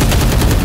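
A loud, dense burst of rapid gunfire from the video game Valorant, sustained through a brief moment with no gaps, close and overpowering.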